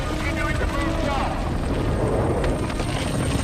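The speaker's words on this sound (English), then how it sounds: "ready for takeoff. We are in the air again." An aircraft takes off in a disaster movie about earthquakes and tsunamis, a loud continuous rotor-like roar with heavy low rumble filling the short stretch alone.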